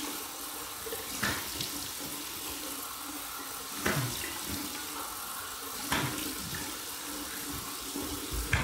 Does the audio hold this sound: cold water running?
yes